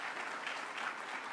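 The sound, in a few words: audience applause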